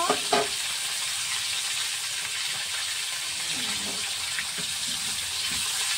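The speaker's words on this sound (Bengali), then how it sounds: "তেল আর বাটারটা দিয়ে কপিটা দেবো, ভেজে নেব।" Cauliflower frying in a wok in oil and butter, producing a steady, close hiss of sizzling throughout with a few faint clinks near the start.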